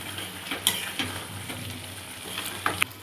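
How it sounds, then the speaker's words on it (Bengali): Mutton pieces fry with turmeric and mutton masala in a pan, a soft steady sizzle broken by a few sharp clinks and scrapes of stirring, with no voices. "এবার খুব সুন্দর করে এটা ভাজতে হবে।"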